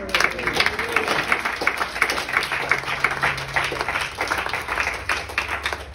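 A church congregation applauding, a steady patter of hand claps from many people in a room, fairly loud and continuous, with some voices mixed in.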